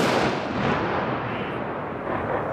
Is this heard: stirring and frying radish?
no